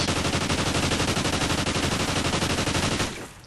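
Submachine gun hip fire in Call of Duty: Ghosts, one unbroken rapid burst lasting about three seconds with an evenly spaced, loud rattle that trails off at the end, with no speech.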